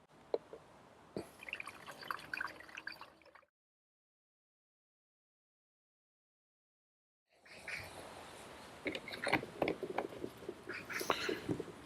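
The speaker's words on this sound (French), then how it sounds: "je vais pouvoir verser directement mon eau, mes 3 litres d'eau, dans le pulvérisateur" Three litres of water poured into a garden sprayer, with drips and a trickling fill in two bursts separated by several seconds of silence.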